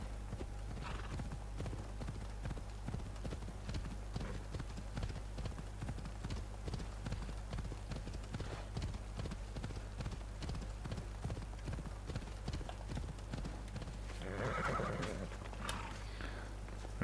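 Horse hooves clip-clopping at a steady gallop through most of the clip in Assassin's Creed Odyssey, with a whinny and neigh rising near the end over a constant low game ambience.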